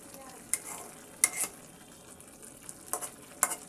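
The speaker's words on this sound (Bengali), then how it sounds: "লতিগুলোকে আমি সুন্দর করে নেড়ে দিচ্ছি।" Taro stolons (kochur loti) are stirred as they fry in a pan, giving a steady soft sizzle broken by a few sharp scraping clinks of the spoon against the metal.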